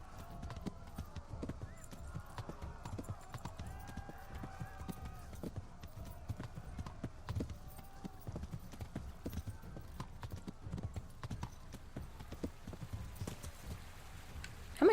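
A horse being ridden in the video game Kingdom Come: Deliverance clip-clops in a quick, steady rhythm, soft and somewhat distant, with faint ambience around the hoofbeats.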